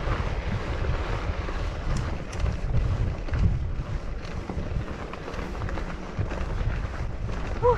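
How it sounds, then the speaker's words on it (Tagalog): Strong wind buffets the microphone during a mountain bike ride along a rocky, bumpy trail in the Philippines, a continuous loud low roar with gusty fluctuations and faint rattling throughout. "Mati nga mahangin."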